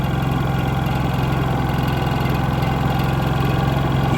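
Honda EU3000is generator idling on eco throttle after a carburetor replacement, a steady, even mid-low engine hum with a fine regular pulse, close and continuous throughout.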